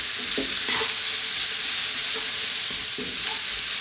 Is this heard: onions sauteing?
yes